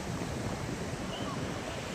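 Sea waves washing onto a wide sandy beach at Umargam, a steady rushing surf roar mixed with wind noise on the microphone, continuous and fairly loud.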